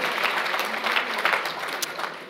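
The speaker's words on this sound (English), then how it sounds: "Let's have another warm round of applause for those fabulous people who did that wonderful work" Warm applause from an audience at an Indigenous guardians network gathering rises in an even wash of clapping, close and continuous for a couple of seconds before tapering off.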